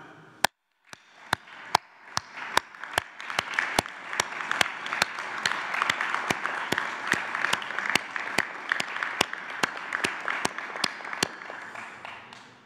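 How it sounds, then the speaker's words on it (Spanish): Applause at a Mexican press conference for judoka Prisca Awiti, a broad wash of crowd clapping that swells in, with loud, evenly spaced sharp claps close by cutting through at a steady beat. "Un aplauso."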